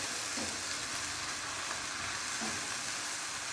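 Cumin and cinnamon fry in a pan while being stirred, producing a continuous soft, hissing sizzle with faint scraping, heard close but quiet and with no talking.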